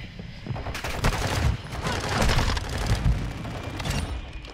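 Rapid, dense gunfire from a first-person shooter, including a Minibak submachine gun on the Museum map, rattles in overlapping bursts for several seconds with booming impacts. The shots are close and loud, with no talking.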